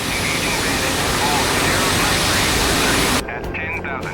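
Aircraft engine roar in the DCS flight simulator video game as the plane takes off, a loud steady broadband rush that drops away abruptly near the end.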